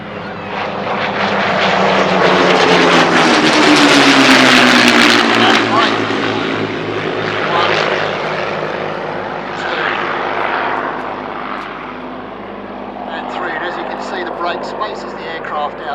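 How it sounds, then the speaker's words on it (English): Warbird piston fighters, a Corsair, P-40 and Mustang, at an air force museum flying display, roar loudly overhead with a broad, swelling propeller-engine drone that shifts in pitch as they pass, then settles into a steadier hum as one lands. "P-40 tail come down, Mustang just touching down now."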